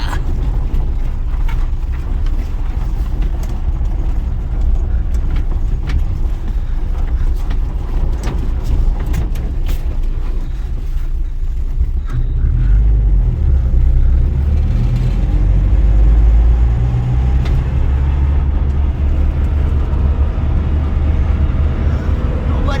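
A first-generation Toyota pickup rolls off-road with a low, constant engine rumble and rattling cab noise, the engine growl thickening and getting louder partway through.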